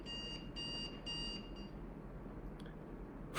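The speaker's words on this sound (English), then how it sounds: "So I had my alarm going off now" An electronic alarm beeps in three evenly spaced bursts, fairly faint, followed by room noise and a couple of soft clicks.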